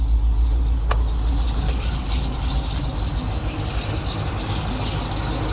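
A rebuilt Chevrolet Trailblazer SS engine idles steadily after startup, giving a smooth, continuous low rumble up close with no lifter ticking. No one speaks.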